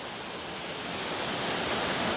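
Water pours down steadily in a hidden icy cave walled with ice, a dense, even rush that swells slightly louder over a couple of seconds.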